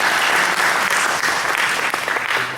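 Audience at a Holi celebration event in India applauding, a dense, steady burst of clapping from a large crowd filling the whole stretch without talk.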